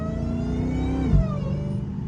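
A Dodge Challenger Hellcat accelerates through city streets, its supercharger whine rising then falling over a loud, close engine rumble, with no talk.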